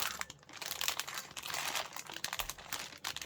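Close, busy crinkling of a thin plastic Lego polybag, crackling and rustling in quick irregular bursts throughout.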